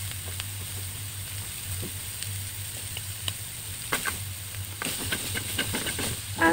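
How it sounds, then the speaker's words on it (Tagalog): Garlic and onion sautéing in oil in a pan, a steady hiss with scattered pops and crackles that grow busier toward the end, with a low hum in the background. "At mag-umpisa na tayong mag-gisa."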